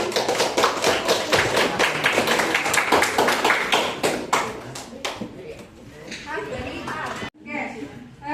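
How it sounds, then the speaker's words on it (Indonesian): A school class claps for a group's poster presentation about healthy canteen snacks, a brisk run of close hand claps lasting several seconds that gives way to a voice speaking. "Berikan tepuk tangan"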